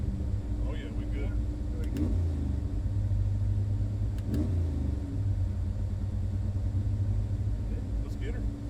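Ford 408W engine on a dyno, loading up and rumbling loudly with rising revs, a heavy continuous roar close by, with brief voices cutting in over it.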